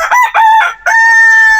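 A rooster crows loudly and close by on a farm, a few choppy notes rising into one long, drawn-out call.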